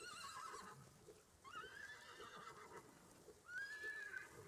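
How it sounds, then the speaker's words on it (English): A horse whinnies several times in quick, high-pitched neighs, fairly faint and thin, with some soft background noise between calls. "I hit the mare"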